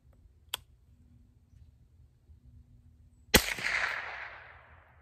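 One loud, sharp report from an unsuppressed Ruger 10/22 rifle, with a long ringing decay, alone outdoors after a faint earlier click.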